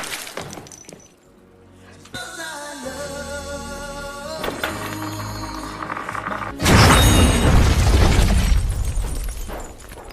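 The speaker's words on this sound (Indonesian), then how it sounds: "meledakkan restoran tersebut" A restaurant blows up in the 2014 film The Guest with a sudden loud blast and a roaring, crackling rumble that fills the scene, following a tense stretch of sustained music.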